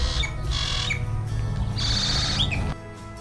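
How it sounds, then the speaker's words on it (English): A grackle calling from a tree, giving loud, near, harsh squawks and rising metallic whistles in two bursts over a steady low background rumble, ending abruptly, with no talk. "I'm hearing the grackle, and I can actually see the grackle up there"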